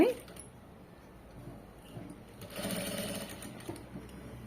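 A sewing machine runs faintly along the folded front part of a blouse, a soft low whir that picks up midway and keeps going quietly to the end.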